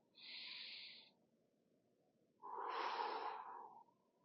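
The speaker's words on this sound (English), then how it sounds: "Stand tall and try to slow down your breathing." Two slow, heavy breaths close by during kettlebell training, a long exhale followed by a pause and a louder, rougher breath, with no talking.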